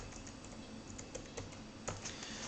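Project name typed on a computer keyboard: a quick run of light, close key clicks tapping in an uneven rhythm, with steady faint background hiss and no talking.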